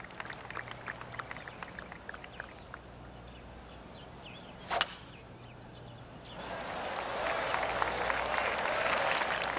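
Polite, scattered golf applause of a small gallery in the video game PGA Tour 2K25, light claps trickling in at first, then swelling into steadier clapping toward the end.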